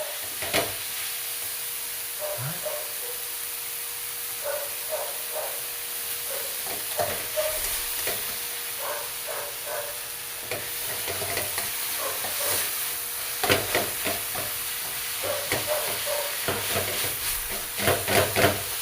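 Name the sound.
stirring crushed tomato mix in a pan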